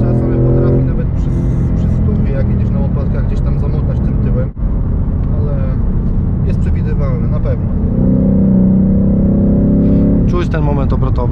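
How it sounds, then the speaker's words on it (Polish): Steady engine drone from a 2020 Ford Mustang GT with a 5.0 V8 rated at 460 hp, accelerating in sixth gear toward about 4000 rpm. It is heard from inside the car, with a voice speaking intermittently over it. "teraz jadę na szóstym biegu, wciskam gaz, 4000 obrotów i jedzie"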